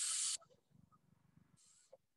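A voice imitates a snake's hiss as the S sound, a loud close sharp hiss opening the clip and a second fainter hiss later, separated by quiet low murmuring.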